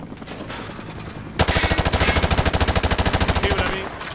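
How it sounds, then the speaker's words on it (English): Sustained machine-gun burst in Modern Warfare 2, a rapid even rattle of loud shots following quieter scattered fire, the spray trailing off at the end; no talk. "He sprayed bullets all over the damn place."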